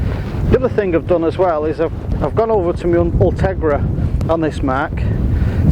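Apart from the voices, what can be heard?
wind noise on the microphone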